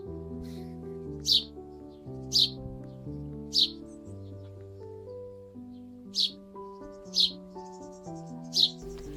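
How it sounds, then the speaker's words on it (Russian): Sparrow chirping in a city, about seven short bright chirps at steady intervals over a soft background of sustained musical tones, moderately near. "Воробей."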